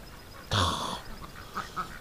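Muscovy ducks on a farm give one loud, rough burst of calling, followed by a few softer, scattered calls nearby.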